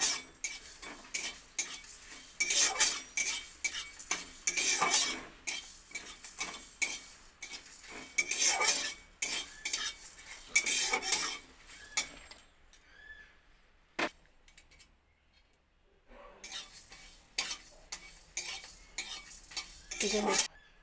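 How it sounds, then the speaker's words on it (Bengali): Whole cumin, coriander seeds and dried chilli are dry-roasted in a dry pan for a jujube pickle spice mix. A spoon scrapes and rattles them in dense, uneven bursts, then pauses briefly before the stirring resumes. "দিয়ে দেবো গোটা জিরা, ধনা, শুকনো লঙ্কা আমি শুকনো খোলায় ভেজে নিয়ে"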